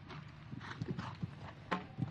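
Hoofbeats of a stallion in a 1.50m show jumping round, a few distinct thuds and clip-clops at close range over a quiet arena background, with no talk.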